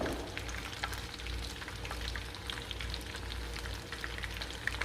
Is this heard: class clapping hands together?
no